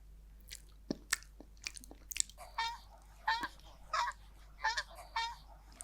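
A goose honks in a series of close, loud calls, roughly one per second, mixed with sharp clicks and chewing-like mouth sounds in a quiet indoor setting.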